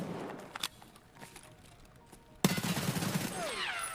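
Rapid SMG gunfire in a first-person shooter game, a sudden loud burst of shots that keeps rattling to the end after a quieter stretch with a few faint distant pops.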